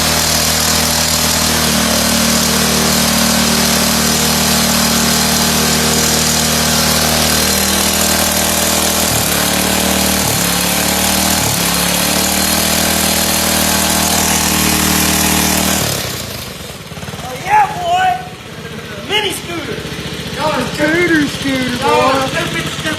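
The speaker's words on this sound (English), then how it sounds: "I'll even include a little video here of me doing a burnout." A custom scooter doing a burnout gives a loud, sustained engine roar with a raspy high whine for about sixteen seconds, then drops away to quieter background noise with people talking.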